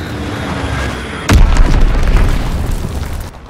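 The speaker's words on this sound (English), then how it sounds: "Enemy bomb incoming. Get to cover." An enemy bomb detonates in Call of Duty WW2 multiplayer team deathmatch: a loud, sudden deep boom partway through, followed by a long rumbling roar over ongoing battle noise.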